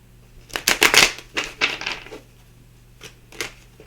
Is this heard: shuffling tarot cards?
yes